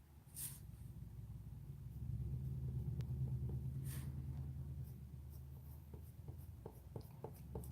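Prismacolor colored pencil feathering short strokes on paper while drawing fur-like hair, a soft continuous scratchy rubbing over a low background rumble, with faint brief ticks near the end.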